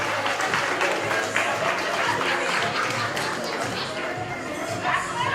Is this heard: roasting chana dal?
no